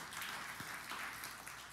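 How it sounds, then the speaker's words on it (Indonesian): A church congregation applauds together, a faint, distant, even patter of many hands with no voices on top. "Yang setuju beri tepuk tangan yang meriah bagi Tuhan Yesus."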